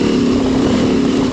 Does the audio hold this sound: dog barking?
no